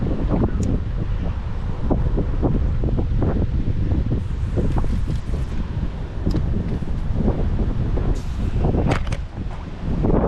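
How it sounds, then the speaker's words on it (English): Strong wind buffets the microphone at Salford Quays beside the water during fishing, a constant roar with gusty thumps and rumbles that fills the whole stretch. "Oh, that wind's bad."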